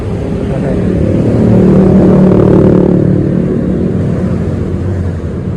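An automatic car's engine revs steadily and loudly during carbon cleaner fogging at an oil-change service, a sustained droning roar that swells slightly and then holds.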